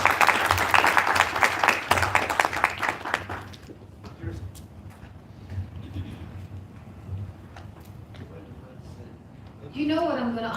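A crowd at a live talk applauds a speaker, a dense burst of clapping for a few seconds that fades into murmuring room noise, with a voice speaking faintly near the end.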